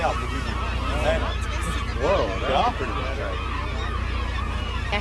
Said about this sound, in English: look at all the birds